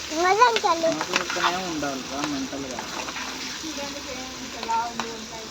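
A brinjal curry with chillies and chilli powder fries in a pan with a soft continuous sizzle and occasional stirring scrapes, while a person talks over it throughout at moderate volume.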